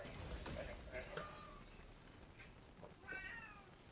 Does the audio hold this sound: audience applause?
no